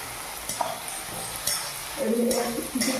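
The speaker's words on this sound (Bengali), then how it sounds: "একটু নেড়ে চেড়ে এবারে দিয়ে দেবো বেটে রাখা পোস্ত বাটা।" Bitter gourd sizzles in a pan as it is stirred with green chillies just before poppy seed paste goes in, giving a steady close frying hiss with light scrapes and taps of the spoon against the pan.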